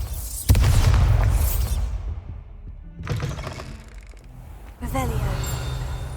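A Bombarda explosion spell from Hogwarts Legacy fires with a sharp blast and a booming, crackling burst, then two more lighter magical impacts follow, with brief talk heard in between.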